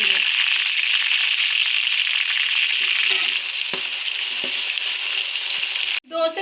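Ginger garlic paste hits hot oil with browned onions for degi biryani, giving a loud, steady sizzle with faint stirring clatter, then a sharp clunk near the end.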